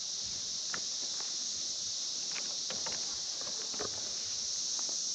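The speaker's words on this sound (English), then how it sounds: "You really hear those cicadas. Yeah. They're pretty loud on the property." Cicadas buzzing steadily and loudly on a rural property where a well house is being built, a dense continuous high drone with a few faint knocks and footsteps underneath, no talking.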